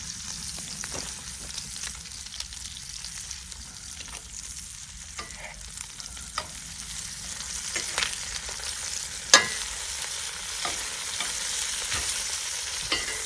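Food sizzles and fries in a hot cast iron skillet outdoors in the woods at breakfast, a steady crackling hiss with occasional sharper pops and stirring scrapes, close and continuous with no talk.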